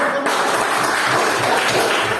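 Classroom applause from students in an Indonesian teacher-training session, a dense steady patter of many hands clapping together, fairly loud and sustained after a brief quiet start.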